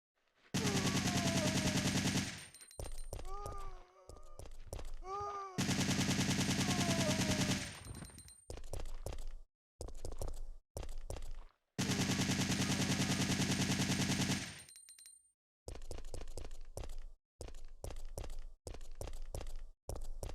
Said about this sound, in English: Got an infinite machine gun though.